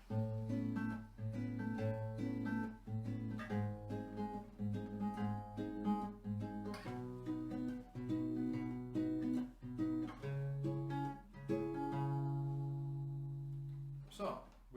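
Electric guitar plays a steady run of two-note chord shapes on just two strings, strummed rhythmically and sustained, with a final chord ringing out at the end.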